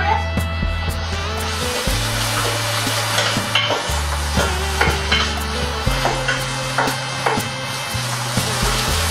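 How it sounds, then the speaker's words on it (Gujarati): Grated boiled potatoes being stirred into khandvi masala for Gujarati masala khandvi, a steady scraping and stirring with faint sizzle, close and moderately loud, with soft knocks of the spoon against the pan and steady background music, no speech. "બટેટા છે જે મેં બાફી અને છીણી લીધેલા છે તે નાખીશું આપણે એક નાની અડધી વાટકી જેટલા અને મિક્સ કરીશું આપણે"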